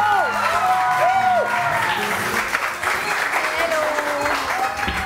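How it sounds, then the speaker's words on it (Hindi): Studio audience on a Pakistani morning show bursts into sustained applause, dense clapping mixed with a few whoops and cheers, with voices talking over it. "बहुत सारी तालियां।"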